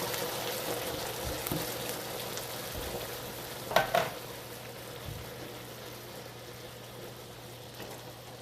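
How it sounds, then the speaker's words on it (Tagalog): Seafood in a pan with onion and newly added coconut milk sizzles and fries in a steady, soft hiss, with a brief clatter of stirring partway through and no talking. "ngayon nasote na, ilagyan natin ng coconut milk"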